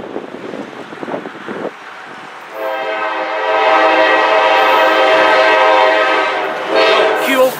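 A CSX freight train with 312 axles passes at Stonewall Connection, sounding a loud, sustained horn over the rumble of rolling cars, preceded by brief noise before the horn blast takes over.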